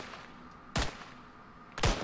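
Two sharp gunshot bursts ring out in a Minecraft shooting game, the first at about three quarters of a second and the second near the end, over a low steady background.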